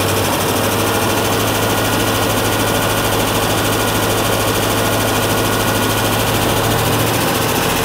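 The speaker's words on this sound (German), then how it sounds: "Aber der Motor selber läuft" Mercedes SL55 AMG's supercharged M113 V8, rebuilt with IRP pistons and showing a hydraulic lifter tick, runs steadily and loudly up close, a continuous even drone with no pauses.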